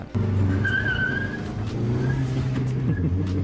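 An Audi TT driven hard, a steady loud engine drone with a whining tone and brief tire noise, close and continuous for a few seconds.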